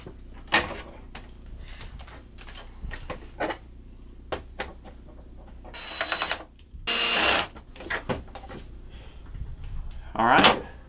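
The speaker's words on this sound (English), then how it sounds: "Put our cover panel back on." An RV interior cover panel is refitted after a cell signal booster install, making a series of close plastic knocks, clicks and rattles. A brief louder scraping burst occurs midway, and another clatter comes near the end.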